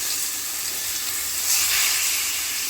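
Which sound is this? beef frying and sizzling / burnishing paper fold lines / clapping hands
beef frying and sizzling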